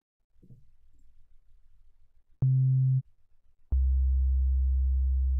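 A synthesized Rhodes-style electric piano sounds a C3 twice, a short held tone and then a longer sustained one, each a smooth, pure, bell-like pitch heard alone after some faint low rumbling.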